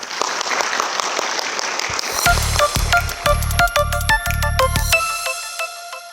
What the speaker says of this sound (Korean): 여러분 큰 박수 한번 부탁드리겠습니다